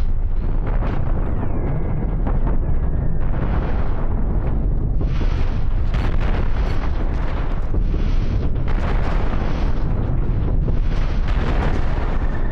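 Loud, dense rumbling explosions and booms in the video game Cosmoteer roll continuously, with bursts of crackling blasts layered over a constant heavy roar; no voices.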